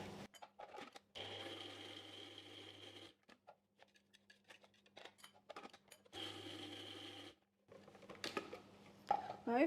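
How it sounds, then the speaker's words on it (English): A food processor blitzes onion and garlic into paste in two loud, steady whirring bursts separated by a pause, with quiet kitchen clatter and a speaking voice between runs. "I'm going to use my food processor and process this into a paste"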